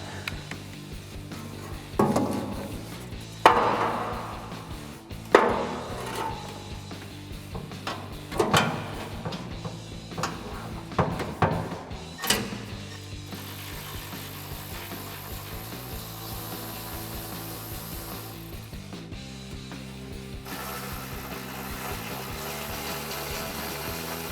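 Metal clanks, scrapes and ratchet clicks come from under a Ram 2500 as 10mm bolts holding the heat shield are removed. The knocks are irregular and close, then give way to quieter rustling, with no talk.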